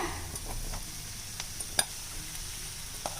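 Soft sizzling of chopped ivy gourd in a hot frying pan, with a few light clinks and stirring scrapes; quiet, no talking.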